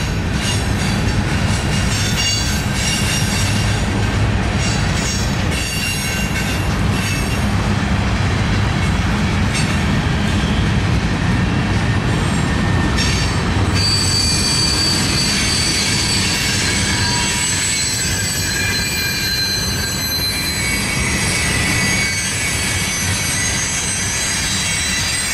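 Norfolk Southern freight train pulled by a Dash 9 locomotive heading east through Alliance, cars rolling past loud and close in a continuous rumble, with sustained high metallic wheel squeal through much of the passage.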